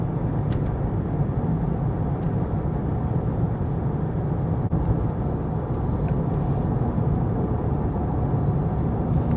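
Steady low engine and road drone from a 2009 Lexus IS250 cruising at night, continuous and even throughout, heard from inside the car with no talking.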